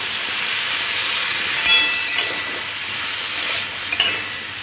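Mixed vegetables with beetroot frying in a pan with ginger-cumin paste and turmeric, a steady loud sizzle and hiss with occasional stirring scrapes, close up and uninterrupted by talk.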